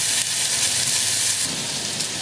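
Food sizzling and crackling in a frying pan on a home stove, a steady hissing spatter that holds at a fairly loud, even level throughout without any talk.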